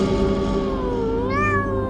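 A black cat on the tiled roof of a school bathroom stall gives one drawn-out, loud, close meow that lifts in pitch near the end.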